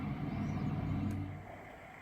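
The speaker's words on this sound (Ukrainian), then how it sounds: "Ось ще під'їхали на трьох гольфкарах." Three golf carts roll up on a course, a faint, steady low motor hum at a distance that eases off and quiets after a second or so.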